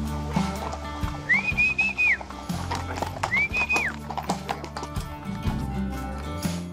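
A horse walks along the Camino de Santiago pilgrimage route in Spain, its hooves clip-clopping in a steady close rhythm while two rising-and-falling whistles sound above.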